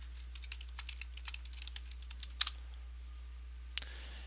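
Fingers type an email address and password on a computer keyboard, with quiet, irregular key taps close by and one sharper double click, then a pause and a final tap, all over a low steady hum.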